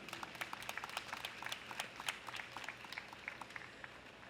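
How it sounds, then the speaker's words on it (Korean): An audience at a teachers' rally applauds steadily, a dense patter of many hands clapping at a moderate distance, sustained throughout without a clear peak. "다시 한번 큰 박수 부탁드립니다"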